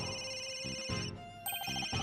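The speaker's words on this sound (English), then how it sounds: "Where's that ringing coming from?" A cell phone rings in the game Ace Attorney Dual Destinies, a bright electronic ringtone with repeating tonal pulses playing clearly over a faint musical background.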